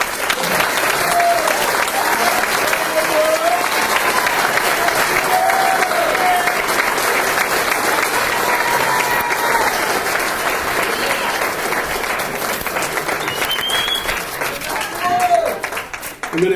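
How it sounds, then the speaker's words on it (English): A seated audience at a Mercer County Fire Academy graduation ceremony breaks into long, loud applause, a thick wash of clapping that holds steady for many seconds before thinning out, with a few faint voices and whistle-like tones mixed in. "Let's give them a round of applause."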